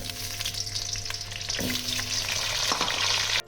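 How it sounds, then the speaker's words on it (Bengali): Chandramukhi potato pieces sizzle in hot mustard oil, a dense steady crackle and hiss with a brief stirring scrape partway through, close and loud with no talk. "এবার আমি আলুগুলোকে ভেজে নেবো"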